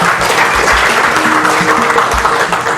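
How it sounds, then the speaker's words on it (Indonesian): A seminar audience at a Kangen Water Enagic direct-selling business presentation claps loudly and continuously, a dense close burst of hands filling the room for a few seconds. "Tepuk tangan buat kita semua sekalian ya."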